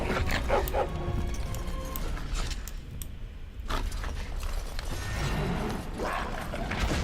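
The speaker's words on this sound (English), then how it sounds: "Dogs." A pack of dogs barks and yips in the fantasy game Dragon Age Origins amid combat clatter, with repeated sharp barks close by and a brief lull midway.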